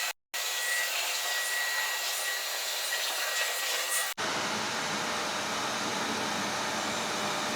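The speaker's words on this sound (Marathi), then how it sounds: "या व्हॅक्यूम क्लिनरचा वापर लादी पुसण्यासाठी पण यूज होऊ शकतो, कारण की हे वेट आणि ड्राय मल्टीपर्पज आहे." A wet and dry multipurpose vacuum cleaner runs with a steady, loud whooshing roar indoors, briefly cutting out near the start and shifting in tone partway through as it sucks up water from a floor being mopped.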